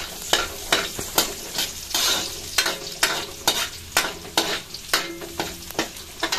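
Garlic sizzles in a hot pan while a utensil scrapes and stirs it in steady, repeated strokes, loud and close.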